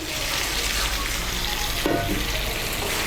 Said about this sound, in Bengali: আমি এর মধ্যে 2 কাপ গরম জল দিচ্ছি।